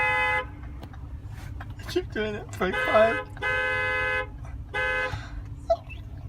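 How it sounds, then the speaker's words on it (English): A car horn honks in several sustained blasts, each held for a second or so, separated by short gaps, with people talking loudly over and between the honks inside the car. "Just honk. Just start honking."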